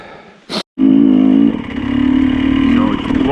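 Dirt bike engine revving and droning steadily while riding across a pasture in the Romanian countryside, loud and close, with a brief gap near the start.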